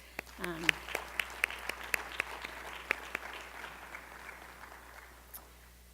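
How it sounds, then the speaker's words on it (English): Audience applause at a cyber security award ceremony, a fairly quiet wash of clapping with distinct individual claps standing out near the front, which thins and fades toward the end. "So again, I just want to give them a round of applause"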